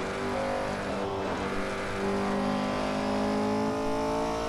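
A 1968 Porsche 908 LH race car's engine drones loud and close at the Nürburgring, holding a steady, rich tone that dips briefly and then climbs slightly in pitch under throttle, with no voices.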